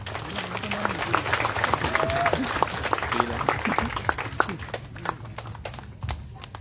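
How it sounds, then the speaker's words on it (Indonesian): Crowd applause at a large Christmas gathering in Timika, Papua, a continuous patter of many hands that thins toward the end, with voices talking underneath. "Mari kita beri tepuk tangan"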